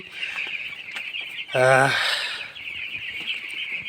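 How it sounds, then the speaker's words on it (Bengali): Broiler chicks in a poultry shed: a soft steady background of cheeping, then one louder, nearer cluck-like call in the middle, and the faint flock chatter carries on after it. "মুরগি মাসাল্লাহ সুস্থ আছে দেখুন পাঁচশো বিশ পিস ব্রয়লার"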